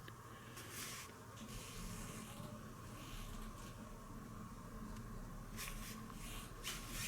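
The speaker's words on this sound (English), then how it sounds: "Spray that little part with the green wash" Quiet bursts of spray hiss start and stop several times, each a short soft puff from an aerosol can spraying green wash onto a model tank, near and alone.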